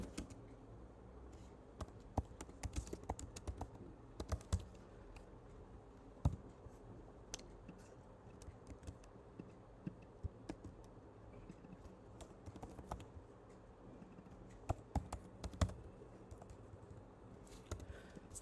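Dart code being typed on a computer keyboard, heard as close, irregular runs of crisp key clicks with brief pauses over a faint room hum, with no talking.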